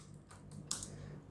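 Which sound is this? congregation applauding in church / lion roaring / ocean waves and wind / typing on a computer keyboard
typing on a computer keyboard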